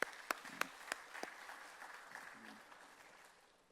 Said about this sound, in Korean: 하나님께 영광의 박수 올리도록 하겠습니다.